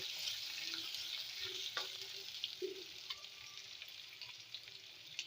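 Crushed garlic sizzles in a hot pan for a mixed vegetable dish, a steady hissing fry broken by soft stirring clinks and scrapes.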